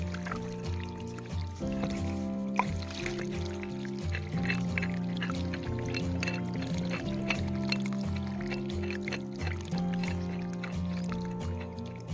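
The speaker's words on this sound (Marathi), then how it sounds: "राहिलेलं पाणी पडतंय ह्याच्यातून" Leftover water pours steadily from a farm irrigation pipe in a continuous splashing stream, with a steady tonal hum running underneath the whole time.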